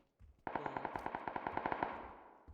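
Automatic weapon firing in the battle royale game PUBG on the Erangel map, a rapid burst of about fifteen evenly spaced shots with ringing echo, loud and close, ending with a short decay.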